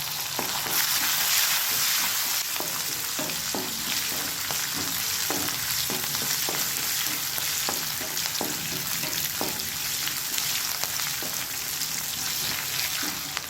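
Curry leaves, shallots and green chillies frying in hot oil for ragi upma, a steady loud sizzle broken by repeated clinks and scrapes of stirring.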